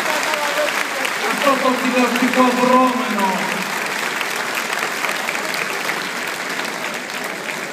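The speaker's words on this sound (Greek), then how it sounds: "Ένα θερμό χειροκρότημα στα παιδιά μας που οργάνωσαν" Applause at a Pontic Greek festival in Ludwigshafen, with a steady wash of clapping running through the clip while someone speaks over it through a sound system for the first few seconds.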